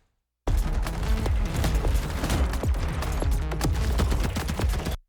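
Rapid, continuous gunfire from hip-firing in Borderlands 4, loud and close, with dense overlapping shots and booming impacts for about four and a half seconds before cutting off abruptly.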